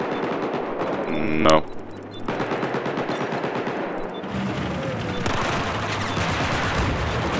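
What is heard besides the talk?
gunfire in the video game Battlefield 4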